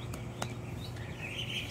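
Guinea hen chicks chirp in a brooder among a mix of young birds, giving a few short, high peeps over a steady low background hum.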